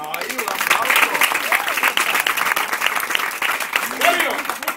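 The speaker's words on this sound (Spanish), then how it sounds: "Ahí, un aplauso." Audience applause at a taekwondo demonstration at Hacienda Esperanza, a steady wash of clapping lasting throughout, mixed with voices talking over it.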